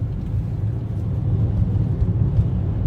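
Low, steady engine rumble from a car rolling slowly into a residential neighborhood during a dust storm, with constant wind-borne hiss and no talk.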